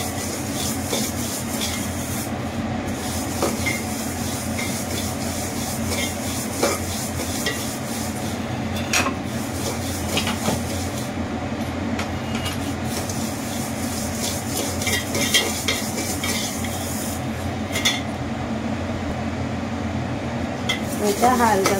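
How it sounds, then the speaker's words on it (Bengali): Dry vermicelli (semai) toasting in a dry pan while being stirred, a continuous soft scraping and rustling with light clinks of the spatula, low and steady throughout, with no voices. "হালকা আছে ড্রাই রোস্ট করে দেবো"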